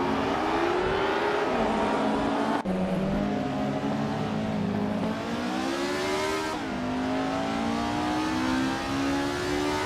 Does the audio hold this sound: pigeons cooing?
no